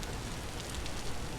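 Steady rainfall in the survival game Vintage Story, a dense, even hiss of drops with no voices, holding at a constant level for a short stretch.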